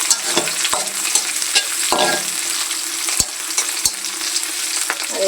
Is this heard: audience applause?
no